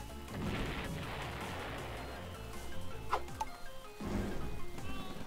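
Grenades thrown by grenadier units burst during a base push in a real-time strategy video game, with sharp crashes around the three- and four-second marks over a dense, continuous rumble of battle noise.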